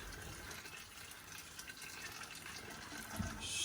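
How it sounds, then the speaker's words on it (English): Boiling water poured from a kettle into a pot of goulash meat, a steady close splashing fill rising slightly louder toward the end, with no voices. "I'm going to go in with quite a bit of, this is boiling water"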